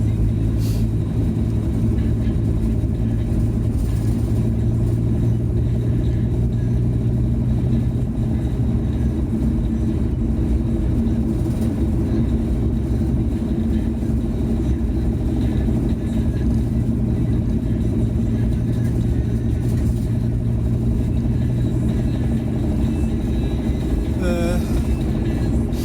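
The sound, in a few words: VW T4 Transporter van driving slowly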